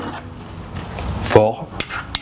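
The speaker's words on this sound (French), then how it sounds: "On va commencer par mettre le beurre dans la poêle" Butter is dropped into a metal frying pan for French toast, with scraping and clinking of a utensil against the pan, a brief louder clatter midway and a few sharp knocks after, close and fairly loud.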